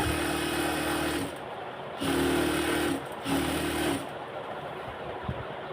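A sewing machine fitted with a shirring guide gathers fabric into ruffles, its motor whirring steadily in three runs separated by brief pauses, loud and close with no speech.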